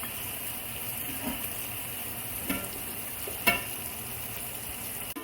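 Onions with salt and turmeric sauté in a pan for a Sri Lankan bitter melon dish, making a constant soft sizzling hiss broken by a few light stirring clicks and scrapes.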